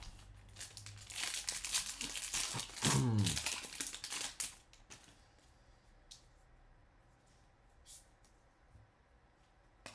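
Baseball trading card pack wrapper being torn open close up, a loud burst of crinkling and ripping foil, then quieter handling and faint rustles.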